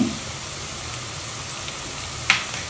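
Crushed garlic and ginger sautéing with wild kurdu greens and a pinch of turmeric in a pan: a steady, dense sizzle throughout, with one brief sharp clink of a utensil near the end.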